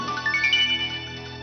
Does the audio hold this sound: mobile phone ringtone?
yes